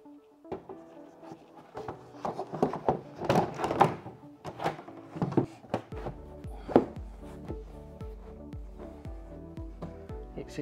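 Top cover of an iHP X unit being fitted into place, a series of close hollow plastic-and-metal knocks, thunks and scrapes of varying strength, bunched early then spaced out, with no talking.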